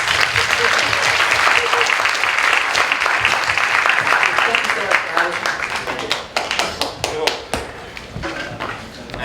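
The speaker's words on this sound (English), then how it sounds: "let's give them a round of applause." An audience at a startup demo day applauds the presenting companies. Loud, dense clapping rolls on for several seconds, then thins to scattered individual claps as it winds down, with some talk beneath it.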